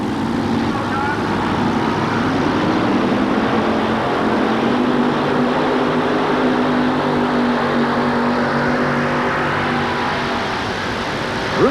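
A modified pulling tractor powered by four big Aries engines drags a heavy sled in the 7200 modified division at a 1987 Cleveland truck and tractor pull, a loud continuous multi-engine roar with steady droning harmonics and crowd-level noise throughout.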